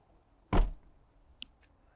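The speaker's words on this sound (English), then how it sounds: "you can close your back door here" Rear door of a 2020 Mercedes-Benz Metris passenger van slams shut with a single loud thud, followed by a faint click of the latch a moment later, no talking.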